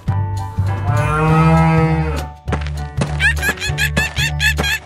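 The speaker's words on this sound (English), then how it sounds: "Cow." A cow moos loud and close in one long, sustained low call, followed by a run of quick knocks and thuds.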